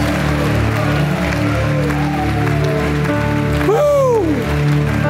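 Church congregation clapping during a praise service, a dense continuous wash of hands close and loud throughout, with an organ or keyboard tone sliding beneath it.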